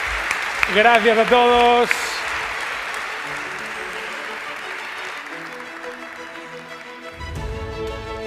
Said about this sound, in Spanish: Pues un aplauso muy fuerte también para ellos.